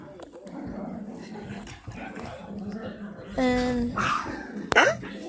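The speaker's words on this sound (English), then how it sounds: "Sorry if dogs are barking in the background or something like that." A dog barks and whimpers in the background of a room while a person talks. There are a few sharp, brief yelps near the end.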